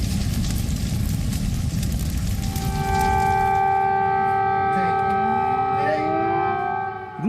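Air raid sirens sound across Kyiv during a Russian missile attack. A dense, noisy rumble comes first, then steady wailing siren tones rise and fall, overlapping loudly until the end.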